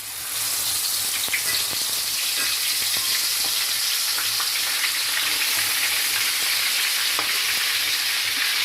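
Food sizzling in hot oil in a home kitchen makes a loud, even frying hiss throughout, dotted with small crackles and stirring scrapes, and no one speaks.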